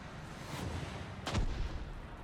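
Gunfire in War Thunder, with a Gepard anti-aircraft vehicle in play: one sharp, loud burst of shots stands out against a steady rumble of battle noise, with lighter firing earlier.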